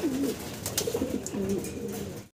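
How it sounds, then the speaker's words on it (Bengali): Large Modena pigeons coo close by in a series of low, rolling coos with soft rustling between them. "দর্শক মডার্না কবুতর আপনারা দেখতে পারতেছেন, বিশাল বিগ সাইজের ভিতরে।"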